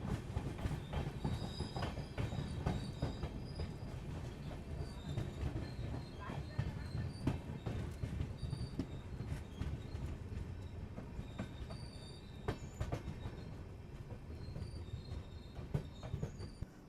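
Mysore–Varanasi direct passenger train running on rails near Chitradurga, a steady rumbling roar with rattling wagons and brief high wheel squeals throughout, heard from inside the train with faint voices in the background.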